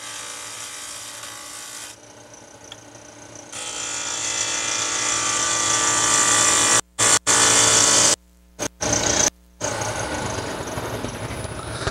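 A skew chisel cutting across spinning wood on a lathe, a steady whirring hum of the machine with a rising scraping cut, broken by several abrupt short pauses before the cut resumes.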